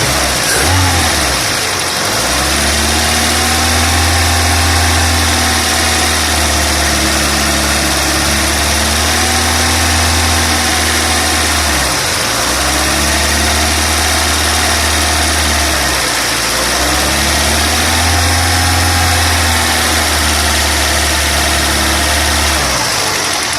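A car engine idles steadily on gas after the fuel tank valve is closed, during a swap of 3 ohm injectors for 2 ohm ones; the loud, continuous hum dips and recovers twice as it stumbles toward stalling, with no talk.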